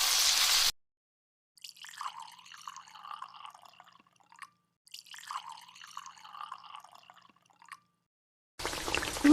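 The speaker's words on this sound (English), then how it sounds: "Then add in the water from the pork that you boiled earlier." Water from boiled pork poured into a kare-kare pot, two separate bursts of splashing, trickling liquid, each lasting a couple of seconds, with louder clatter at the start and end.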